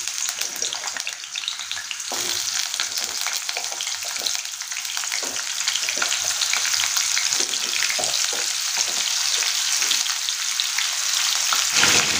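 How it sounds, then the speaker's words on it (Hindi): Moringa drumstick pods fry in hot oil, giving a loud, steady sizzle and crackle throughout with a few soft stirring scrapes, and no voices. "ड्रम स्टिक को थोड़ी देर तेल में हम फ्राई कर लेंगे"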